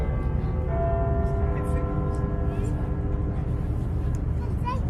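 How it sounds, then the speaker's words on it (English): Big Ben's quarter bell in Westminster, London, chimes as a sustained series of ringing bell tones, heard from a distance under boat and traffic noise along the river. "One of them chimes every 15 minutes. They call it the quarter bell."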